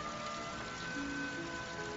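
Steady pouring rain in a film scene, a continuous soft hiss of falling water with no talking, at an even, moderate level throughout.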